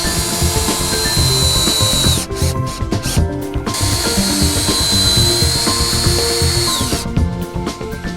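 A power drill drives screws into log siding on a butt-and-pass corner installation, its motor whining steadily and loudly with brief pauses and changes in pitch as each screw seats.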